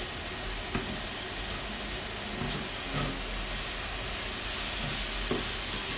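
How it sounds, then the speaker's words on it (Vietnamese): Keto cauliflower fried rice with bacon and cooked egg being stir-fried in a pan, giving a steady, even sizzle and hiss with a few soft scraping stirs, close and unbroken, no voices. "khi trứng chín rồi thì mình sẽ xào tiếp"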